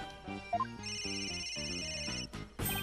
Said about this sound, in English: Where's that ringing coming from?